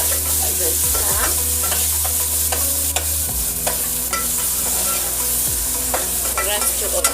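Red onions fry in a pan for a simple Kenyan meal, a loud continuous sizzle with occasional stirring scrapes and a low background hum, with no talking.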